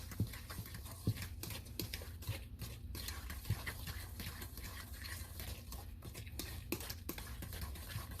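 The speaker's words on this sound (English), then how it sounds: "Gonna just stir this one more time." Coffee cake batter being stirred in a bowl, a soft continuous scraping and swishing with a few faint clinks of the utensil against the side, steady and close.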